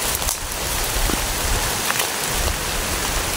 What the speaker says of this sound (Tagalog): Hapon na ba? Tapos ulan pa.